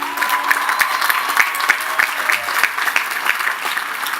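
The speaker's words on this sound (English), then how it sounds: "A big round of applause for our class of 2018." A large commencement crowd applauds the graduating class of 2018 at Lehman College, a dense, steady roar of clapping that holds evenly across the whole stretch without any speech over it.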